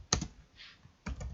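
Quiet typing on a computer keyboard: a short cluster of clicks, a soft pause, then another brief burst of keystrokes.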